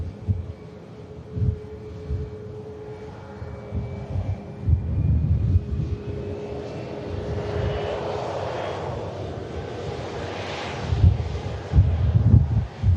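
A Boeing 747-400 arriving at Manchester Airport roars steadily overhead, its engine drone swelling and shifting in pitch as it passes, with gusty wind buffeting the microphone throughout.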